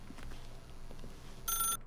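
An in-game telephone in The Stanley Parable rings once, a short bright electronic trill rising over a quiet room hum near the end.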